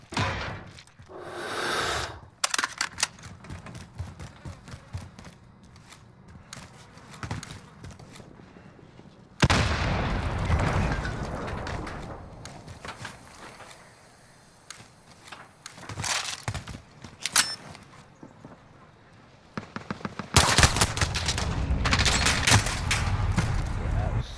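Rapid M4A1 rifle fire from a video game, the weapon running a 30-round magazine, comes in loud, close bursts and sustained volleys separated by short quieter gaps.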